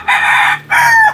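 A Melsims rooster crows twice in close succession, loud and near, two long drawn-out calls with a short gap between them and no talk over them.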